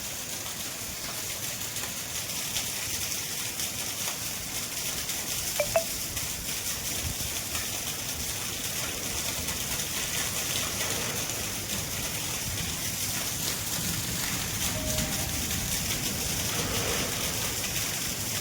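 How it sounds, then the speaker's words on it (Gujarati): Continuous unseasonal rain falls in a steady, moderate wash of patter, with a couple of small knocks early on and no talking. "અત્યારે હાલ પંદર મિનિટથી કન્ટિન્યુ વરસાદ શરૂ છે"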